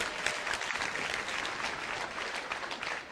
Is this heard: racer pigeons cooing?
no